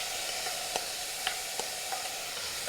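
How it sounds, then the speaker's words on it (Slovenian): Onion sizzling and frying in a pan for a rice risotto with pork, a steady broadband hiss throughout with a few soft clicks and pops, fairly close and even, no talking. "Prepražili bomo zdaj čebulo"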